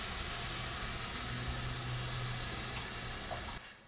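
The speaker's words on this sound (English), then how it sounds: "Now we're ready to add the broth." Chicken or vegetable broth pouring steadily into a pot of flour mixture for chowder, a continuous watery splashing and hiss that holds for several seconds before cutting off.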